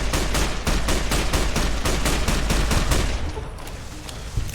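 Rapid bursts of video game gunfire ring out loud and close, a steady stream of shots for about three seconds before tapering into quieter scattered fire.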